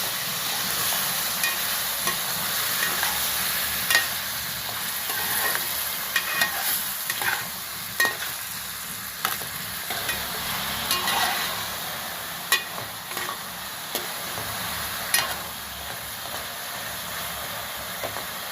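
Chopped tomatoes being stirred into a frying Andhra-style fish curry (chepala pulusu) with chilli powder and turmeric, a steady close sizzle with scraping spoon strokes throughout, no voices.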